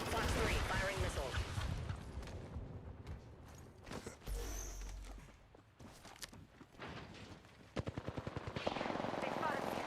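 Video game combat gunfire in a late-night session, with dense machine-gun bursts and rapid shots, loud and continuous, mixed with other game effects and a sharp volley of rapid shots near the end.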